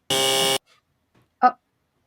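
A loud, flat electronic buzzer blares for about half a second, followed by a short faint voice sound.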